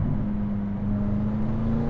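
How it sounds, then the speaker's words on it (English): A McLaren 570S with a dual-clutch gearbox drones steadily from inside the cabin, its engine pitch holding nearly level and rising slightly over a brief stretch. "look at the speed of the dual clutch shift here."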